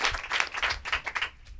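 A TV studio audience claps in a burst of dense, close applause for under two seconds, with many overlapping claps that thin out toward the end.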